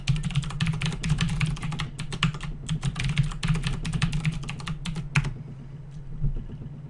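A complex password typed on a computer keyboard, a close, steady stream of rapid key clicks lasting about five seconds, then falling quiet with a low hum underneath.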